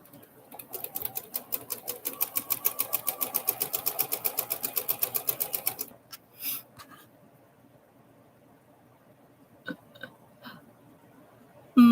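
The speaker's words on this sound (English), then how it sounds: "My machine is a Janome 6600P, Charlotte." A Janome 6600P sewing machine stitches in a fast, steady run of rhythmic needle clatter for about six seconds, then stops, followed by a few isolated clicks and bumps nearby.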